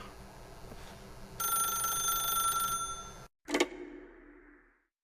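An old-fashioned telephone rings in the video game The Stanley Parable, a steady bright bell trill that breaks off, followed by a single sharp clack as the receiver is picked up and a fading tail.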